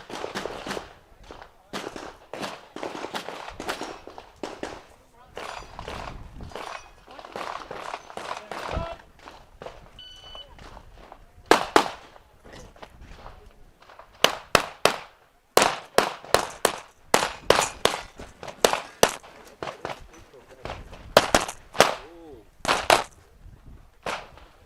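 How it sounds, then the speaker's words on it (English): Handgun shots ring out at an IPSC World Shoot stage, with sharp bangs arriving in irregular bursts and quick strings, some close and loud, mixed with metallic target hits, crowd noise and a commentator talking. "But this is Brenna Gaston shooting"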